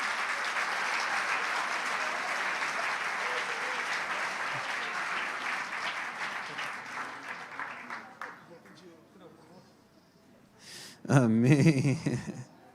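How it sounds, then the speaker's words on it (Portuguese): A church congregation applauding during a worship service, sustained clapping that gradually fades out, then a brief loud voice over music near the end. "Vamos aplaudir Jesus, gente?"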